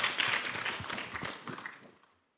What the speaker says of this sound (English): Please give warm applause for Dr. Kamarudin's speech.